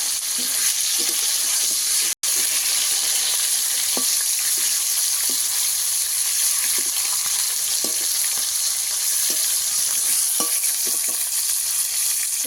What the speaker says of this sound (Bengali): উল্টো পাল্টা নেড়ে নেবো, একটু পাল্টা হালকা করে মাছটা একটু ভেজে নেবো।